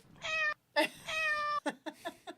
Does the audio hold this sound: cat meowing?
yes